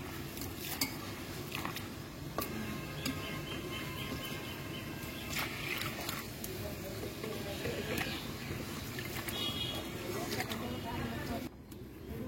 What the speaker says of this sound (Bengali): এই তো এখানে ভাজা চালগুলো আমি সুন্দর মতো ধুয়ে নিলাম।